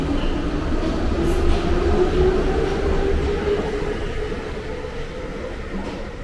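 A Prague metro train rumbles past at close range, a loud steady roar with a faint rhythmic clatter that slowly eases toward the end.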